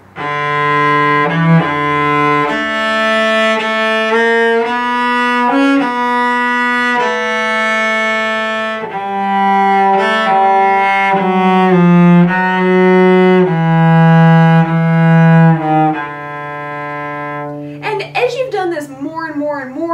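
Twinkle Twinkle Little Star played in steady, sustained tones, busy with quick passing and neighbor tones slipped between the main pitches, heard alone and clearly.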